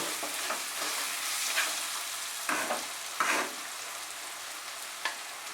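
Tomato added to a hot frying pan for a vegetarian pointed gourd and potato curry, giving a steady close sizzle with a few brief stirring scrapes, and no talking.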